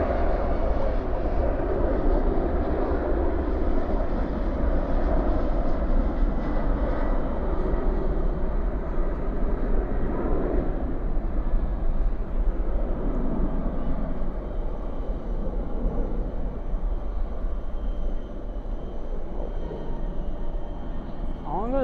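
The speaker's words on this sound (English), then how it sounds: "the American 777 we just saw on frame is Flight 81 coming in from London Heathrow" An American Airlines Boeing 777 arriving from London Heathrow at night at DFW produces a sustained, fairly loud jet rumble with a broad low roar, and people talk over it throughout.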